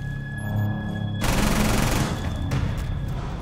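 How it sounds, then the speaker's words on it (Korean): Rapid gunfire from Rainbow Six Siege erupts in a dense, continuous burst, loud and close, layered over a steady electronic hum. "왜 총소리가 난리네요."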